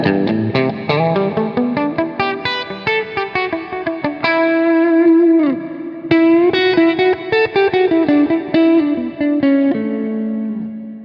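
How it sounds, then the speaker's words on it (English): Electric guitar played through a thick, dark overdrive on a Headrush Prime, picked notes and ringing sustained tones, loud and close with a slight reverb tail. "I've got an overdrive, which is kind of a darker sounding overdrive"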